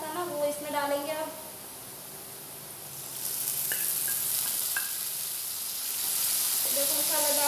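Prepared masala fries with golden brown onions in a pan for bhindi, a steady hissing sizzle that swells after a brief pause, with a voice speaking at the start and end.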